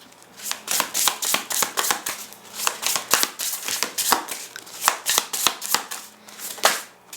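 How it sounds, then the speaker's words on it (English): Oracle cards being shuffled by hand in a steady run of rapid crisp riffles and slaps, close and fairly loud, lasting several seconds with no talking. "Let's shuffle oracle cards."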